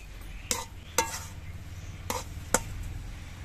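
A cooking pot of leafy saag greens is lifted off the stove, giving four sharp metallic clanks spaced unevenly over a few seconds against a quiet kitchen background.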